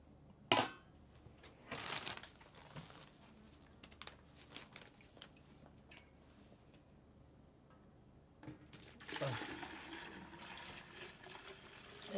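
Hot strike water is poured into a mash container while brewing beer at home, heard as faint splashing and gurgling bursts with quieter stretches between them.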